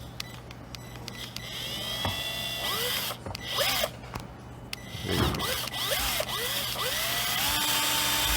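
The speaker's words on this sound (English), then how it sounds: "He's going to use a little screw gun with a very small drill bit, and he's going to go straight through it." A small screw gun with a tiny drill bit bores straight through a pipe, its whining motor rising and falling in short bursts over a steady low hum.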